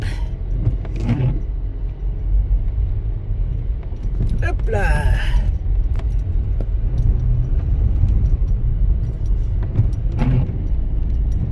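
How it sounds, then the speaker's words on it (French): A car grinds up a steep, slippery forest track in mid-December, its low engine rumble running steadily throughout, with a jingle of keys and a person talking briefly over the noise. "Alors ça va glisser un peu la voiture."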